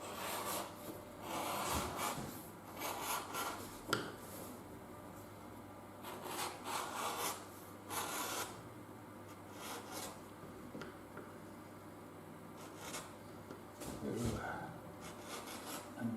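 Leather belt edge being stripped by hand, a dry scraping rasp in repeated strokes up close, broken by brief pauses and light handling noises.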